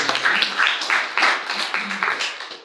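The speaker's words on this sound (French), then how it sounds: "Si vous voulez bien applaudir." Applause at a school group event in Bouloire, with uneven bursts of clapping from a small audience rising and falling in rhythmic pulses over a couple of seconds.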